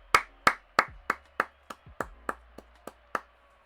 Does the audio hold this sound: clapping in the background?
yes